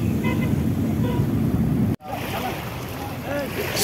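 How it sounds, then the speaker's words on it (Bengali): Sea waves wash in a steady broadband roar at Patenga beach in Chittagong, with wind noise, briefly cut off before resuming. "আর এই হলো পতেঙ্গা সমুদ্র সৈকতের ভিউ"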